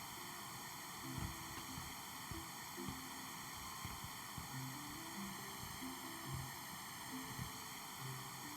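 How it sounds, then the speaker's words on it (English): A vacuum cleaner in House Flipper 2 runs as a steady, faint whirring drone with a constant hiss, continuous throughout and without pauses. "Got the vacuum."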